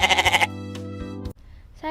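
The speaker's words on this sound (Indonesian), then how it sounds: "Dan bagaimana sih suara kambing itu?" Goat bleats, a rapid wavering cry followed by a longer, steadier bleat, close and loud, then a short pause and the start of another call.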